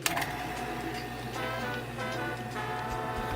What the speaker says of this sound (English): I'm going to vacuum this again.